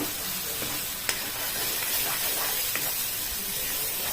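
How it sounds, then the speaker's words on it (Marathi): Ground spice paste frying with golden onions for matki bhaji, stirred steadily in a pan with a continuous sizzle and occasional sharp scrapes of the spoon, close by and without talk. "आणि त्याला तेल सुटेपर्यंत आपण चांगले हलवून घ्यावे।"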